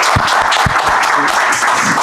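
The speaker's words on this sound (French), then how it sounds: "je pense qu'on peut l'applaudir pour ceux qui le connaissent." An audience claps in sustained, dense applause, fairly loud and close, with no one speaking over it.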